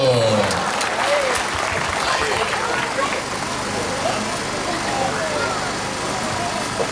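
Schoolchildren clapping their hands at a primary school trauma-healing session, a burst of applause near the start that gives way to a continuous noisy room with voices talking.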